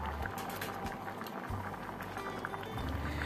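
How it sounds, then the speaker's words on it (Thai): Purple sweet potato pieces boil in water inside a covered pot, a steady faint bubbling and rumbling simmer with soft patter throughout, no voices. "นำลงไปต้มในน้ำเดือดและปิดฝาหม้อไว้รอให้เดือดประมาณ 3-4 นาที"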